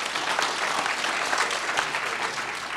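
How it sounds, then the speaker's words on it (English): Attendees at a community meeting after a wildfire applaud in a steady, dense spatter of claps filling the room at an even loudness. "That's worthy of applause"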